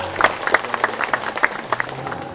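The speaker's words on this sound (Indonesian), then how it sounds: "Oke, tepuk tangan." A small audience at a government event on low-cost housing loans gives a short burst of scattered clapping, with individual claps clearly separate and no voices over them.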